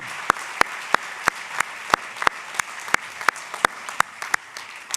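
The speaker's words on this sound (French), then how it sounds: "Je crois qu'ils ont tous mérité d'être très chaleureusement applaudis." Applause from a small conference audience, sparse individual claps in an uneven rhythm rather than a dense roar, steady for several seconds.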